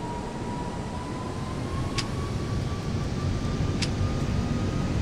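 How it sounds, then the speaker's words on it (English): An Airbus A330 airliner spooling up for takeoff in the Prepar3D flight simulator, a steady roaring engine drone with a rising high whine, loud and continuous, with faint clicks. "Now let's listen to the howl of the A330 engines."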